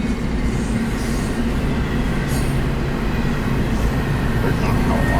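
A heavy double-stack container freight train rumbles steadily past nearby, a constant loud roar of wheels and cars with faint squeals and clacks.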